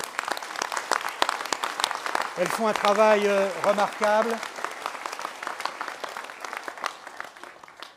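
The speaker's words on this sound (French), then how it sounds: "je crois qu'on peut les applaudir, elles sont nombreuses dans cette salle" Audience applause in a packed hall for local associations and their volunteers at a mayor's New Year address, heard under a man's speech that runs across the whole clip, rising to a clear burst of clapping midway and then easing back.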